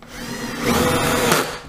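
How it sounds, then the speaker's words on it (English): Cordless power drill driving screws, a steady high whirring motor held for under two seconds and rising slightly as it bites in, close and loud, with no voices. "I'll put about three screws in here in different ways."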